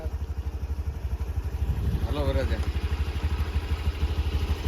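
A Honda Activa scooter engine idles close by with a steady pulsing chug at a wedding haldi celebration, while people talk loudly over it.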